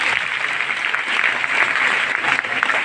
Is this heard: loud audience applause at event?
yes